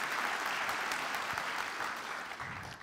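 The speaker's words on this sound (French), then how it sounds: "Donc, un grand applaudissement pour Philippe Buix et à Nicolas aussi." Conference audience at an opening keynote applauding, a steady patter of many hands clapping at moderate distance that fades gently in the last moments.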